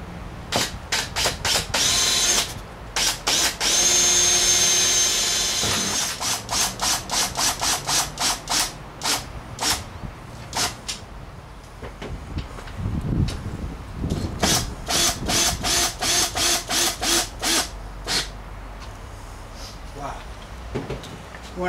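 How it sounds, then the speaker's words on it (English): A power drill whines in repeated short bursts, pre-drilling holes for an RV window in a cargo trailer, starting and stopping rapidly, close by, with a longer run early on and occasional talk and handling noises between. "he's gonna pre-drill a few holes"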